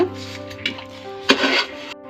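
A spoon stirs chicken curry with coriander and salt in a metal pot, giving soft scraping and rubbing strokes with a couple of sharper clanks against the pot, over a steady low hum.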